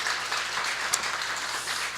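A church congregation at Eunjeong Methodist Church's 49th anniversary worship service applauds in a steady, dense wash of clapping that sounds distant and moderately soft, with no voices over it.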